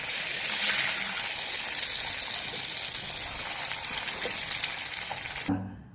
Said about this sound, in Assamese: এতিয়া এখন এখনকৈ লেটিয়াই লেটিয়াই ভাজি যাম।